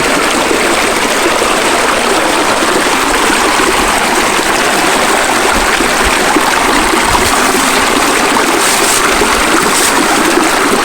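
Creek water rushes loud and unbroken, a dense steady wash of flowing water with no pauses.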